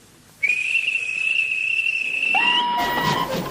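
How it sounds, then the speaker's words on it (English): A railway guard blows a whistle on a station platform, one sustained shrill tone holding for about two seconds before dropping, with background hiss and clatter as it ends. "At last, the guard blew his whistle."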